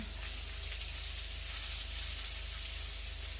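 Continuous crackling sizzle of potato dumplings frying in a pan, steady and hissy throughout, with no talking.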